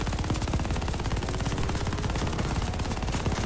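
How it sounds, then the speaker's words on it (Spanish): Mounted machine gun in Call of Duty: Vanguard, Pacific campaign: a continuous, loud stream of rapid shots rattles without pause at a steady rhythm. "¡Jackson, fuego de cobertura! ¡Avión en camino! ¡Usa la ametralladora!"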